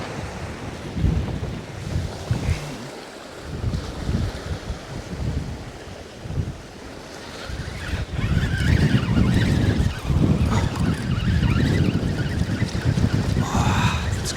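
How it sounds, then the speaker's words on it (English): Wind gusts against the microphone on a rocky shoreline during night cod fishing in Northumberland, roaring louder in the second half over the sound of surf, with no voices. "That wind's getting up again."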